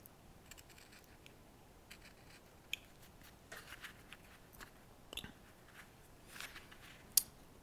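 A knife carves a tiny wood spirit face into a small stick, giving faint scattered snicks and crisp little cuts at irregular intervals, close but quiet against a soft background hiss.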